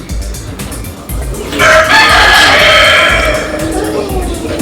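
A rooster crows loudly and close by on a large farm, while chickens cluck in the background.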